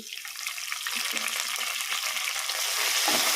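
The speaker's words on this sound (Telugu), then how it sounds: "ఇప్పుడు కొంచెం అంతా కరివేపాకు కూడా వేస్తున్నాం" Curry leaves, garlic, dried chillies, cumin and mustard seeds fry in hot oil for a tempering, making a continuous close sizzle that grows slightly louder toward the end.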